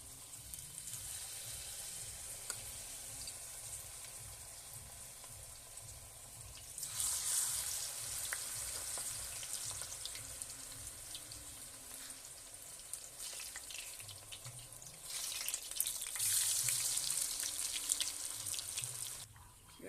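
Pumpkin flower pakoras coated in gram flour batter deep frying in oil, a soft steady sizzle that swells louder in two bursts as fresh pieces are dropped in, no talking.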